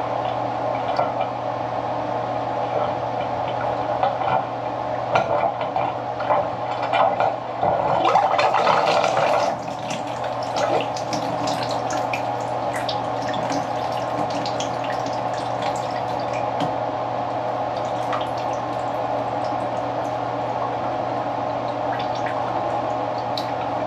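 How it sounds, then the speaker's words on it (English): A bottle of nitrogen is used to flush a clogged HVAC drain line, giving a steady hiss with dripping and gurgling water and a louder burst of rushing gas midway, with no talk. "I'm gonna take this bottle of nitrogen and see if we can flush it out."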